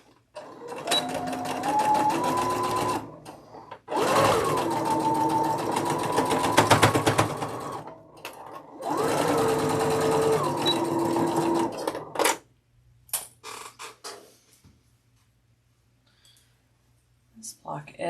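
A home sewing machine runs in three steady bursts of a few seconds each while stitching a quarter-inch seam on a quilt block, its rapid needle hum close and loud, with short clicks and quiet pauses between the runs.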